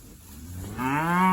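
A cow on a muddy, rain-soaked farm lets out one loud, drawn-out moo that swells in the second half, close by, with no one talking.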